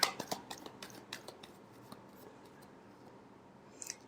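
Tarot cards are shuffled close up in a quiet room, a quick run of crisp riffling snaps at the start that thins into soft papery rustling, ending with a brief flick.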